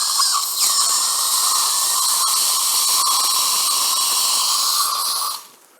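A Dentis SQ 3.5 dental implant drill whines at a steady high pitch, close and continuous for about five seconds before it winds down and stops.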